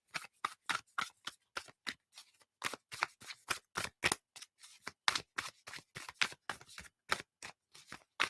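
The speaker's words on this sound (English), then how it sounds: "Last time shuffling" A deck of tarot cards is shuffled by hand, producing rapid, crisp riffling bursts in a quick irregular rhythm, close and fairly quiet, with no talking.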